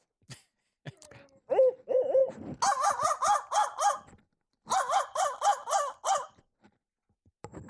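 Crow caws imitated by mouth as a turkey-hunting locator call: hooting notes lead into two loud runs of rapid, harsh cawing, close and alone outdoors with short pauses between bursts.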